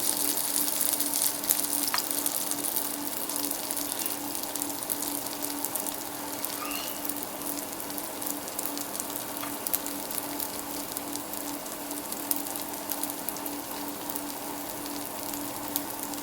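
Cauliflower and potato kebabs bound with cornflour shallow-fry in an open pan, making a steady, even sizzle and fine crackle that holds close and unbroken throughout, with no talking.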